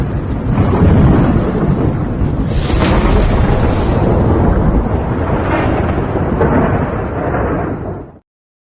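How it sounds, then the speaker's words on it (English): A thunderstorm rages outside, with a loud, deep rolling thunder rumble that swells and carries on for several seconds before cutting off abruptly. "Wow, stormy out there."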